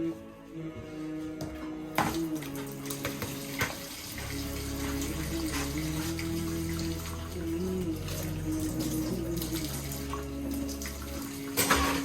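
A tea pot rinsed under a running kitchen tap, water streaming steadily and splashing as the pot is handled and scrubbed, close and fairly loud, no speech.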